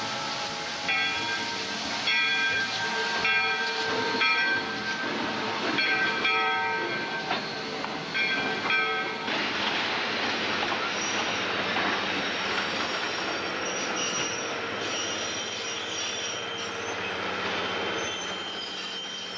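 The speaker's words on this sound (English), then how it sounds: "All aboard the Alberta Prairie train" An Alberta Prairie steam excursion train rolls along the rails with a steady, fairly loud rumble and rattling wheel noise, some tonal ringing early on before an even, continuous clatter.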